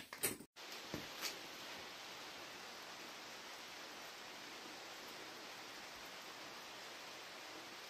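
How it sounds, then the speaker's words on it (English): Steady rain falling outside a workshop during an arc-welding repair of a broken garden disc, a continuous broadband hiss that stays even and fairly faint after a few brief knocks at the start. "It started to rain on me."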